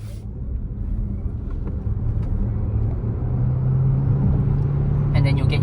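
BYD Sealion 6 electric SUV launching hard in sports mode, a steady low rumble of tyres and road noise with a faint rising electric whine, heard from inside the cabin with no engine note.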